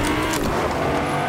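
A car drives in Fortnite with a loud, steady engine drone and road rumble close up, with no break in the sound for its whole short span.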